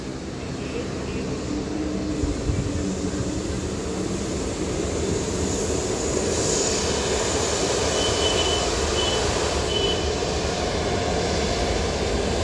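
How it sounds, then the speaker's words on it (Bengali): A Boeing 787 airliner runs along the runway at Bauniya Bottola, heard from just beyond a wire fence as a steady, loud, broad engine rumble that swells slightly and holds continuously throughout. "এই যে রান করছে বিমানটি, আপনারা দেখতে পাচ্ছেন।"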